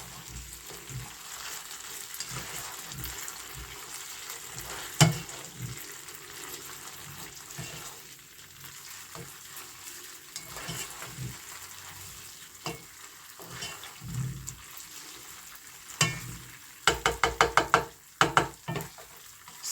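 Tomatoes are fried and stirred into a chicken and fish stew in a pot, giving a quiet sizzle with clinking stirring and a run of sharp scraping knocks near the end, no voices.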